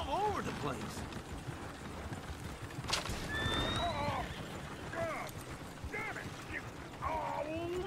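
Horses in Red Dead Redemption 2 whinny several times, with repeated high neighs over the clip-clop of hooves and coach noise, close and fairly loud.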